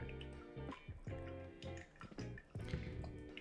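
Hot water from a final pour drips and trickles steadily through a bed of coffee grounds in a pour-over brewer, close and continuous, with a bright musical tone running through the flow.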